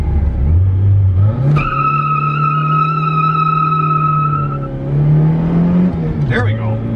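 A small red car launches hard in first gear, engine revving as the tires squeal in a long sustained howl, with a second rev and chirp at the end; people talk over it.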